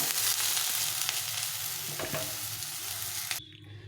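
Mashed potato paste frying in a pan, a steady close sizzle that runs throughout and cuts off abruptly near the end, with no talking.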